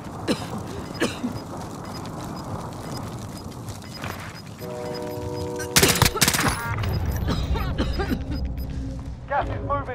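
Video game gunfire crackles in bursts through a firefight, with a sharp loud volley near the middle and scattered shots afterward, mixed with mechanical clanks and players talking over it.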